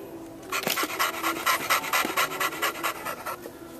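Rapid, rhythmic mechanical panting from a toy dog, steady and fairly close, with a raspy, breathy texture repeating for a few seconds.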